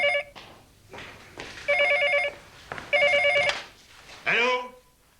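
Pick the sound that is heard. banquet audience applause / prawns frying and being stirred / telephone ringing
telephone ringing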